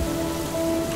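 Heavy rain falls steadily in a dense, continuous hiss with faint tonal hums underneath and no voices.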